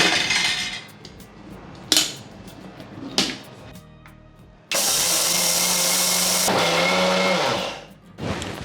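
A mixer grinder coarsely grinds cooled roasted lentils in a loud, dense whir that runs for a few seconds, set between quieter stretches of clinking jar lid and kitchen handling, up close with no talk.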